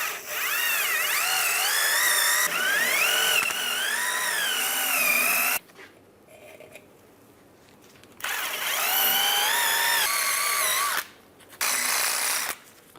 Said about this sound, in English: just take a wire brush. I'm just going to clean up the contact areas.